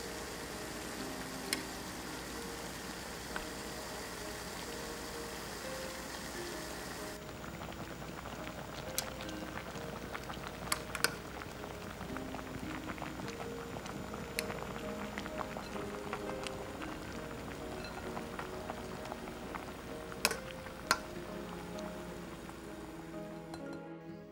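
A steady, low bubbling roar of water at a rolling boil with bay leaves, whole peppercorns and ginger water, scattered small ticks and clinks over it, continuous and close by.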